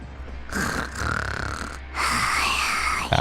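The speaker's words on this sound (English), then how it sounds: "she snores so loud for a tiny little thing" Paimon, the small companion character in the video game Genshin Impact, snores loudly in two drawn-out nasal breaths, the second one louder and wavering.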